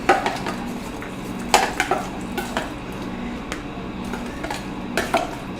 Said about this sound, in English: So let's just stir these up a little bit.